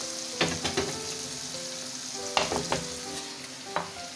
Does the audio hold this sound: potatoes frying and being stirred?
yes